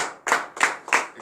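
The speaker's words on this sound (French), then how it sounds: "donnez de vives acclamations à notre Seigneur Jésus" A church congregation at a French-language morning prayer service claps together in acclamation, producing close, loud bursts of applause in a steady rhythm of roughly three beats a second.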